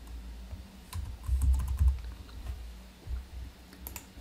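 Soft, rapid keystrokes on a computer keyboard tap out a short entry into a revision table, a quiet close-up patter of clicks over low background hum.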